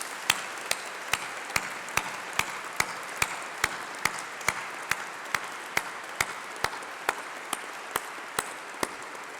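Graduation ceremony audience applauds families, friends and tutors, a broad, steady wash of clapping in a large hall, with sharp ticks recurring at regular intervals throughout.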